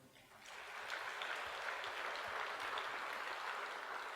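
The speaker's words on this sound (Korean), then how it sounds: "박수 한번 해요." A church congregation applauds during a Sunday sermon, the clapping swelling within the first half second into a steady, fairly faint wash that sounds somewhat distant.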